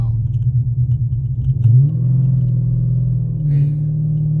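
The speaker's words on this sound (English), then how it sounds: "Man, that downshift, wow." Dodge Charger engine rumbling loud and close through a downshift, a deep steady low growl that swells briefly mid-way and then holds a throaty idle-like drone.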